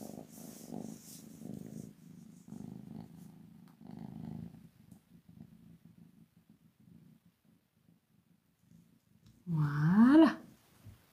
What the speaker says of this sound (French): je crois que c'est le chat que tu entends